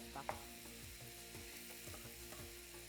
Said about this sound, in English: We sauté everything over medium heat.